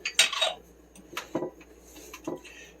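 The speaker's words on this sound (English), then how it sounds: "I am going to get one of my smallest skillets, which is behind this big one here. And I'm going to set that down." Small skillet handled and set on a stovetop: a few distinct metallic clanks and knocks, sharp and close, with quiet gaps between them and no talking.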